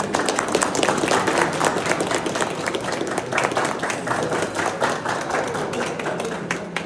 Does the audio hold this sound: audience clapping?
yes